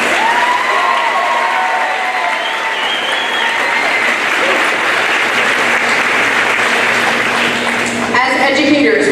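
Sustained applause from a graduation audience honoring students, a dense wash of clapping that holds steady for several seconds with a few cheers mixed in.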